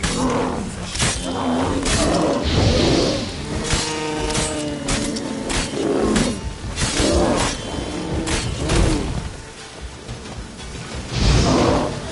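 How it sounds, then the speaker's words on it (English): A bear in a PS4 video game lets out repeated loud, guttural roars and growls in bursts, close and aggressive, with rustling movement between the calls. "Bear! Bear! Run,"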